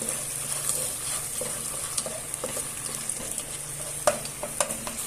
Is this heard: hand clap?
no